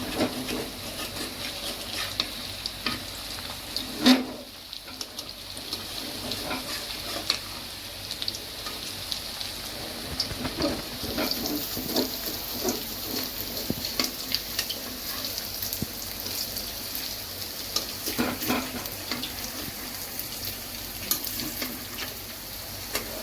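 Pakoras frying in hot oil in a pan make a steady, fairly loud crackling sizzle, broken by a sharp clatter as they are turned over partway through, with no talking.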